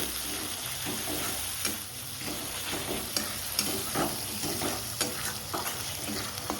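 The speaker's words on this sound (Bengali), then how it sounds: "এই যে পেঁয়াজ রসুন একটু নাড়াচাড়া করে ভেজে নিলাম" Onion and garlic frying in a pan, a steady sizzle with repeated scraping strokes of a spoon stirring them at an even pace.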